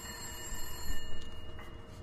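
A phone rings faintly in the Silent Hill video game, a thin metallic ringing buried under a dense, noisy background with no talk.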